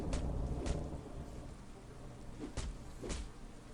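Steady video game rain hisses throughout, with a few sharp thumps or cracks breaking through at irregular moments.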